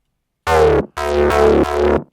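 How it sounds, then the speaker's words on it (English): A Serum synth patch passed through a formant filter for a mouthy tone plays three sustained, buzzy, harmonic-rich notes with downward-sweeping vowel-like filtering, loud and alone with short gaps between them. "I added another format filter"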